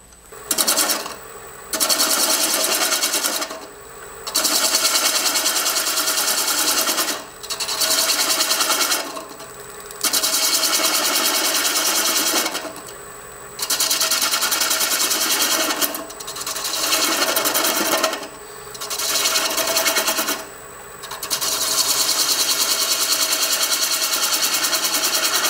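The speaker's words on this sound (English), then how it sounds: "now I'm going to take a quarter inch spindle gouge and remove this tenon" A wood lathe whirs loudly as a quarter-inch spindle gouge cuts away a tenon on a hollow form, in repeated scraping passes of a few seconds each, separated by short quieter pauses.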